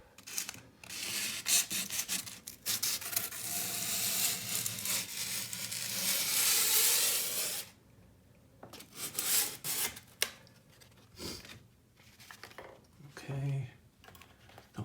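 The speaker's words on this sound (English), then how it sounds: "So repeat the sandpaper step." Sandpaper scrubbing back and forth over a filled gap in a hardwood floor, with bursts of close, dry rasping that stop and restart in short strokes, and a voice talking between the passes.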